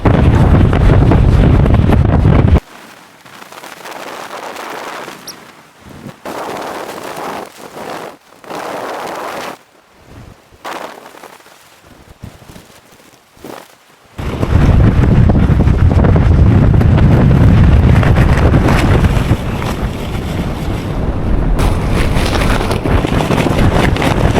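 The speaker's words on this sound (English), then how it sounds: "This wind is mental." Strong gusting wind buffets the microphone at an exposed mountain campsite, roaring loudly, then dropping to quieter stretches broken by sharp gust bursts, before returning to a heavy sustained roar.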